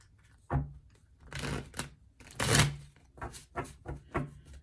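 Oracle cards shuffled by hand in a quiet room, a series of soft papery riffles and slaps in irregular bursts, close and fairly faint.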